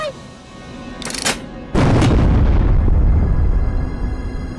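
A loud explosion in Worms 2: Armageddon bursts out, followed by a sustained roaring rumble of blasts and debris that fills the rest of the moment.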